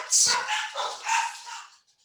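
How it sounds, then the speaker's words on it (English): A dog barks indoors during a conversation, a few short yips and barks over about two seconds, moderately faint and fading out at the end, with no talk over it. "Excuse the dog."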